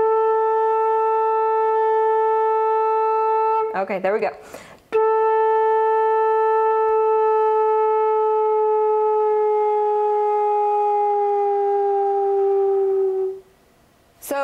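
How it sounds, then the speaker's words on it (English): A flute holds a clear, steady A, then bends it smoothly a whole step down to G as the tone slowly sags, close and alone apart from a short spoken interjection near the start. "I was able to bend the A a whole step down to G."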